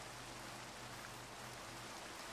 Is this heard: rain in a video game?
yes